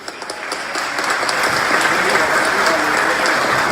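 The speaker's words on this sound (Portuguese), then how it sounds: "também recebendo o aplauso de vocês" Audience applause at a consular gathering of Internacional football club supporters in Lagoa Vermelha, a steady, loud roll of clapping that builds quickly and holds evenly.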